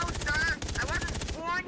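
Rapid automatic gunfire in the video game Far Cry 3: Blood Dragon rattles in close, loud bursts, pausing briefly midway before another burst, with a synthetic high whine over the shots.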